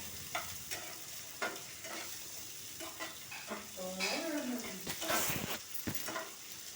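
Thin-sliced ivy gourd (dondakaya) fries in a pan with a steady sizzle, broken by the scrape and clink of a spoon stirring, close and moderately loud, with a brief murmur of a voice.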